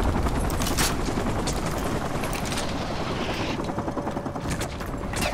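Gunfire in Call of Duty: Modern Warfare 2 Remastered, dense overlapping shots and bursts against a steady rumbling battle backdrop, loud and continuous with sharper cracks standing out, no clear talking.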